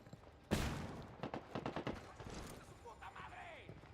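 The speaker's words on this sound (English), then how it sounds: "Lobbing a flashbang." In Ghost Recon Wildlands, a flashbang bursts loudly, then a rapid run of gunfire cracks follows with a ringing tail, set against quieter game ambience and voices.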